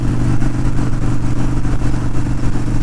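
A new Harley-Davidson Street Bob with forward controls and no windshield, heard while riding on the road home: a steady, loud engine drone with wind, continuous and close, with no talk over it.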